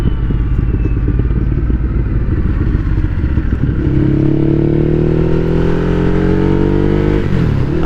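A Ducati Hypermotard 821 motorcycle ridden hard on country back roads, its engine loud and close, with a throbbing idle-like rhythm giving way to revving acceleration through rising gears and wind rush.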